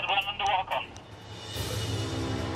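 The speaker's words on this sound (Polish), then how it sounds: "Słychać telefon podwodny." Underwater telephone on a nuclear submarine, a warbling tonal signal at first that gives way to a hissing, rushing transmission, with dramatized narration nearby.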